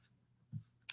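A single sharp computer mouse click lands near the end, crisp and close, preceded by a soft low thump over a faint hum.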